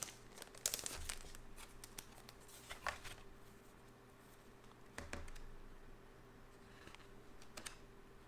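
A foil cover Hush 2 #1 variant comic book is pulled from its protective sleeve, with close, quiet crinkling and plastic rustling in a few bursts and no talk.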